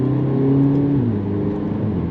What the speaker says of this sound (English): That gearbox changes gear in just, that's bonkers how quick that is